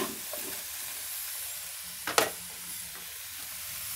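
Tomatoes are stirred in a hot pan for pork tail sinigang, a soft, even sizzle with one sharp, brief scrape of the spoon midway and lighter stirring around it.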